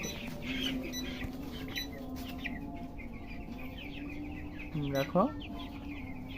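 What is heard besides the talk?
chicken clucking while being caught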